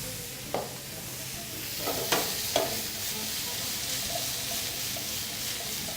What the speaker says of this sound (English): just allow your mushrooms to continue browning